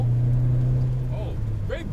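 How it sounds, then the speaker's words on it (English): Boomy classic car engine droning low and steady while driving, fading a little toward the end as a voice speaks over it. "very boomy car. Picking up speed now."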